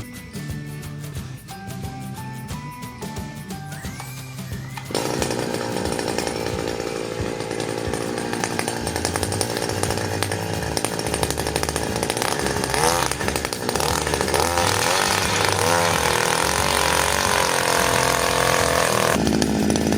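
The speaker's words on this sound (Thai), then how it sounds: "ลองทดสอบการเจาะการเจาะดินดูครับว่ามันจะ โอเคไหมครับ" Kanto KT-DRILL-6200 petrol earth auger drilling into soil, its two-stroke engine idling quietly before roaring up loudly and running at high revs, with the engine note dipping and shifting under load.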